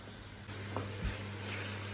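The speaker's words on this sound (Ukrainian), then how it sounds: "Тут смажиться м'ясо, фарш" Pork mince frying in two pans on a home stove with onion and mushrooms, a steady close hiss and sizzle that grows slightly louder partway through, with a brief clink of utensils.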